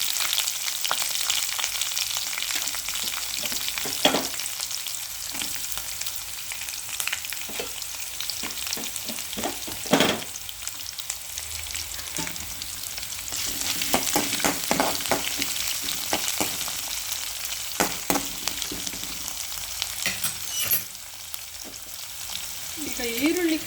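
Onions, curry leaves and green chilli frying in hot oil in a pan for a lotus stem stir-fry, giving a steady close sizzle with scattered stirring clicks and scrapes throughout, no voices.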